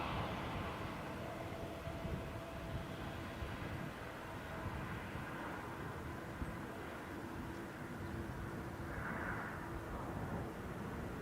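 EgyptAir Airbus A320neo at Dublin Airport, a continuous broadband engine rumble held at steady loudness throughout, distant rather than close, with no voices.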